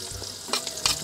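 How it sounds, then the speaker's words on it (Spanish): Chopped onion sizzling in a hot pan as it is stirred in, with a steady hiss, a couple of brief scraping bursts, and no talk. "Ahora vamos a colocar la cebolla, como siempre me gusta"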